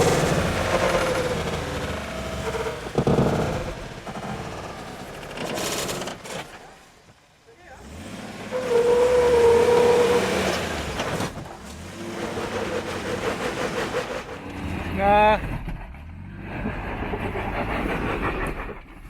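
A Jeep Wrangler JK rock crawling over rough terrain, its engine revving hard in surges with clattering and rumbling, loud and close, while people talk and shout nearby.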